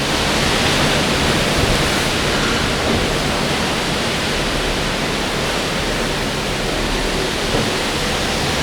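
Hurricane Rafael's winds batter a house in Cuba, a dense, steady roar of rushing air and lashing noise that fills everything, loud and unbroken without any voices.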